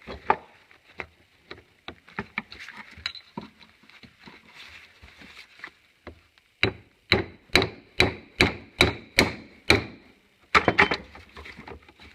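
Hammer blows flattening metal parts on a Montana #3 dogless tarp: scattered taps at first, then a steady run of about ten loud, evenly spaced strikes, a short pause, and a few more.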